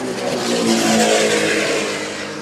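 Racing powerboats at the Key West powerboat races roar past as a loud, sustained engine drone that swells to a peak and then fades slightly as they move on.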